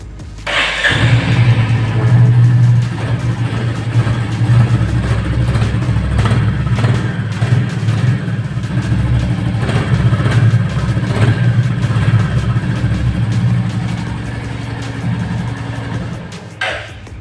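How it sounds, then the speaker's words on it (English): A 2021 Royal Enfield Classic 350 motorcycle starts and settles into a steady, loud idle, its low thumping engine running for over fifteen seconds before easing off near the end. "So let's start the engine."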